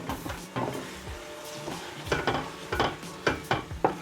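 Chicken, aubergine and potato curry being stirred and sautéed in a pan, with repeated scraping clinks of a spoon against the metal over a soft sizzle, close and fairly loud.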